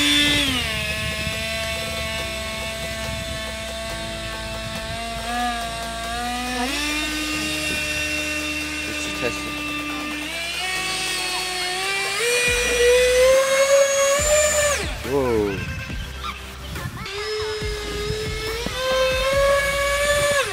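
A homemade hydroplane boat powered by a 70mm electric ducted fan runs at about half throttle. It gives a piercing, steady whine whose pitch shifts up and down as the throttle changes, heard close with no talking.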